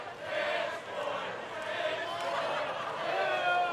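A wrestling crowd chants and jeers at El Phantasmo, a dense, continuous wash of many voices that swells slightly toward the end, heard from within the arena.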